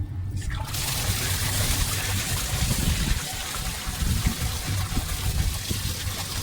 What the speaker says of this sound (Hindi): एक साइड से पानी निकलता रहेगा, एक साइड से डलता रहेगा, तो कपड़े साफ हो जाएंगे